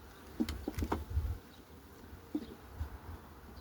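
Honey bees buzz faintly around a Dadant-Blatt or Farrar hive during a May inspection, with a few soft knocks and taps breaking the quiet hum.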